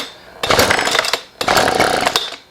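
A Husqvarna 125b leaf blower is pull-started on choke, two loud close bursts of its small two-stroke engine sputtering and revving, each cutting out after about a second.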